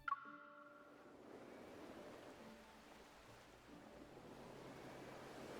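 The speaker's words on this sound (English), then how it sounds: "the sound of waves resounding inside the house rushes to greet me" Waves resound inside a house in the video game Love and Deepspace, a soft, steady rushing wash that stays faint and even throughout after a brief chime-like tone at the start.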